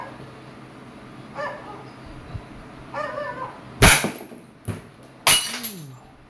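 Airsoft revolver firing steel BBs at a glass bottle: a couple of soft clicks, then two sharp cracks with glass breaking and clinking, followed by rattling debris.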